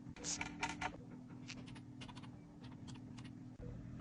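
Someone types on a computer keyboard, a run of quick, light key clicks in uneven bursts over a low room hum, with no one speaking.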